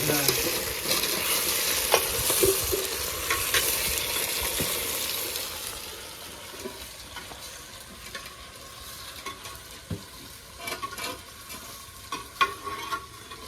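Meat is stir-fried in a clay pot, with a loud sizzle and repeated scraping stir strokes at first, then a quieter simmering hiss broken by occasional clinks and scrapes.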